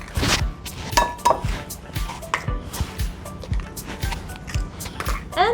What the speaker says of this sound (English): And next we're going to add our 3 eggs.